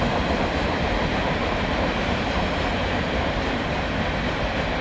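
A Norfolk Southern NS-118 freight train in the Run 8 train simulator rumbles along the main line near Blacksburg, South Carolina, with a steady, loud roll and clatter of wheels on rails and no talk.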